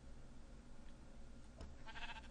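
Sheep bleating in the Minecraft Galacticraft mod, a short synthetic bleat rising near the end over a steady background hum, moderately loud and alone without talk.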